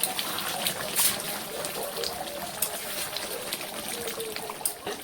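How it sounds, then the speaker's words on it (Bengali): Spiced water poured into mutton curry cooking in a pan makes a continuous bubbling, hissing wash of liquid sound at moderate loudness, with a few brief sharper splashes. "মশলা দেওয়া জলটা দিয়ে কষাই নেব।"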